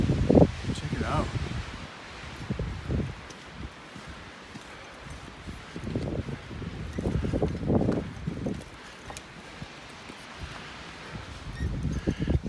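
Gusty wind above the tree line on a White Mountains hike buffets the microphone in uneven surges, rising and falling in loud rushes with quieter gaps between them.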